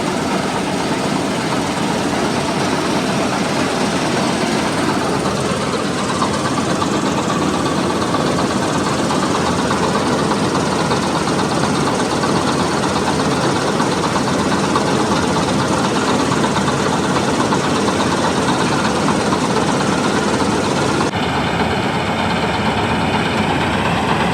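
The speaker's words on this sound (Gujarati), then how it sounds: "ધૂમ ચલાવ જુઓ ઘઉં વાળે એટલા સ્પીડમાં જુઓ" A wheat harvesting machine's engine drones loud and steady with a continuous mechanical roar and vibration, running without pause for the whole stretch in a farm field.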